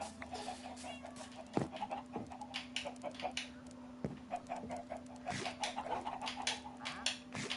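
Minecraft chickens cluck in short, scattered calls over a steady game background hum, moderately quiet and repeating irregularly throughout.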